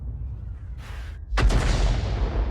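Artillery rounds from a Hummel self-propelled gun in a video game: a single heavy boom hits about midway and rolls into a loud, sustained rumble, preceded by a faint hiss, with no talk.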